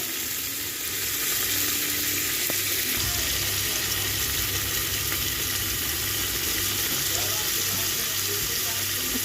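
Tomatoes and green chillies frying in a pan give a steady, close sizzle throughout, broad and even in loudness, with a faint low hum beneath and no talk.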